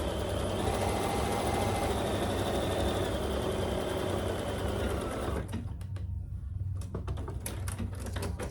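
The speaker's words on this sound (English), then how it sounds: "I am going to just baste this before I trim it" A sewing machine runs steadily as it bastes a seam on a tote bag, a loud continuous motor whir that stops abruptly about two-thirds through, followed by a few faint clicks and handling sounds.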